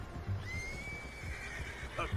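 A horse in Red Dead Redemption 2 lets out a whinny with a rising, drawn-out tone, close and clear, followed by a snort over a faint game background.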